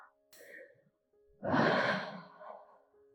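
Deep, audible exhale during a yoga breathing practice, a single long breath out after a faint inhale, close and fairly soft, with no talking.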